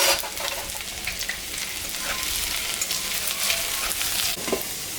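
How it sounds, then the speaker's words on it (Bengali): Dried red chillies, five-spice seeds and chopped ginger frying in leftover fish-frying oil in a home kitchen, a loud continuous crackling sizzle with scattered pops and stirring clatter, no talking. "মাছ ভাজার তেলের মধ্যে আমি শুকনো লঙ্কা, পাঁচফোড়ন সব মোড়া দিচ্ছি"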